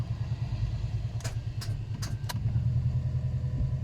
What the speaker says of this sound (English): Why is it not starting?